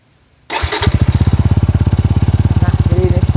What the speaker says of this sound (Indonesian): Nah, jadi ini adalah suara idle-nya ya